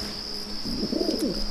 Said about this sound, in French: Oh, c'est pigeon.